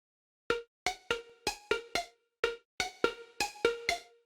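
An unprocessed air flute synth lead from Ableton Wavetable plays eleven short, bright plucked notes in a steady, slightly syncopated melodic pattern, each with a quick decay, alone and clean.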